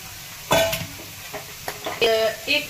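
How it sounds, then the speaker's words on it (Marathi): Grated carrot sautéed in ghee for carrot halwa, a low sizzle broken by several sharp spoon scrapes and clinks against the pan, close and fairly loud, with a brief voice in the background. "गाजराचा खीस त्यामध्ये टाकून घेते तुपामध्ये आणि छान परतून घेते"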